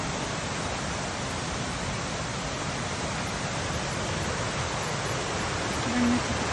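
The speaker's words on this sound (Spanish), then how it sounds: "Todo esto es cascada." Small waterfalls in a mountain forest give a constant, broad rushing roar of falling water, loud and unbroken throughout with no other sounds standing out.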